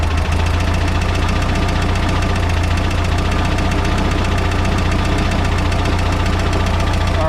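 A Volkswagen Type 4 engine with dual carburetors idles loudly and steadily while its mixture screw is adjusted, producing a close, continuous, slightly knocking mechanical chug with no voices.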